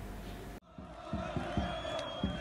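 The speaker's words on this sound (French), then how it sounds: "Une foule importante massée devant la grande poste d'Alger." A large crowd of protesters massed in front of the main post office in Algiers, heard as a broad rumbling murmur with rhythmic chanting pulses after a brief cut, fairly distant and steady.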